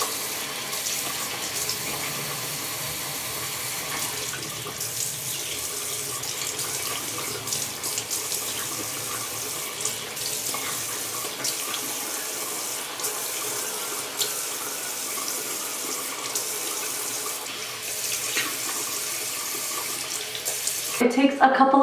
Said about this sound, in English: Just make sure that you're using lukewarm water. And as I'm washing the mask off, I'm also going in a circular motion and exfoliating